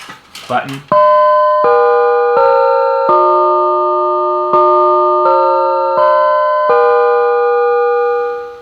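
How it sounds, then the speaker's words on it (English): A 1978 Music & Sound model 228 chime module, wired to a push button, rings a loud multi-note door chime: eight clear sustained tones struck in steady sequence, each ringing into the next, with a brief rustle before the first note. "Oh, and the door chime works."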